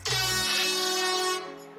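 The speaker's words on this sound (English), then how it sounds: "Let me get an air horn." A loud, blaring air horn blast sounds for over a second, a brassy sustained tone that cuts off abruptly and leaves a short fading tail.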